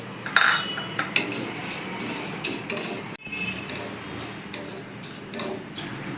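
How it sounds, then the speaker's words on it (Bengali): Moong dal is dry-roasted in a kadai on a gas stove, with a spatula scraping and stirring the dry lentils against the metal in uneven, rasping strokes and occasional sharper clinks. "মুগ ডালটাকে একটু হালকা লাল করে প্রথমে ভেজে নেব"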